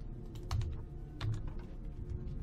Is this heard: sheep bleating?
no